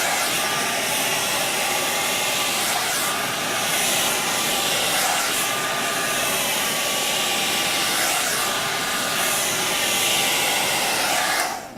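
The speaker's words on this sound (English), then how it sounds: "you use the blow dryer." A blow dryer blasts air through a child's natural hair in one continuous, loud, even whoosh. The airflow sways slightly, cuts off abruptly at the very end and has no talking over it.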